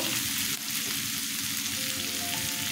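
Ground turmeric and chili powder hit hot oil with a steady, close sizzle and crackle that holds through without a break, with no voices.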